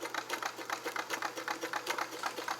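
An all-metal Kenmore 158.1941 free arm convertible sewing machine, restored, running a long wide stitch: a steady, close mechanical rattle with even, rapid needle strokes and no talking.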